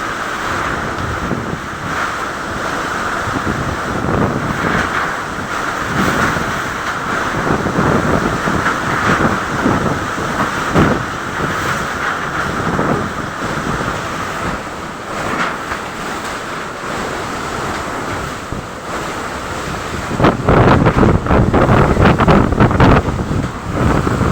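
Typhoon Opong winds roar across Masbate, a loud continuous rush with gusty buffeting against the microphone that swells even stronger near the end, sustained for over twenty seconds without speech.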